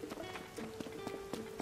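Horse hooves clip-clop in the Tears of the Kingdom video game, a faint quick run of soft thuds with light patter around them.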